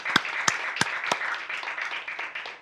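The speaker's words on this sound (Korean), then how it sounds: "우리 하나님께 영광의 박수 올려드립시다" Church congregation applauding together in a worship hall, a few sharp distinct claps at the start merging into a steady, even patter of clapping that carries through to the end.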